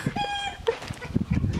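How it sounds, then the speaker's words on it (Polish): Hens clucking on a countryside farm, heard close up as short, throaty clucks with one higher drawn-out call, over low background noise. "Kurę."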